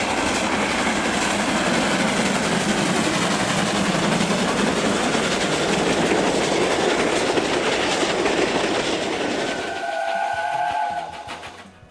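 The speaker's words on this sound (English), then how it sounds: "a middle ground engine like a Class 5 going at full pelt" A Class 5 steam locomotive runs at full pelt, a loud continuous roar of rolling wheels and rail noise that holds steady for about ten seconds before dropping away as a higher tone briefly sounds.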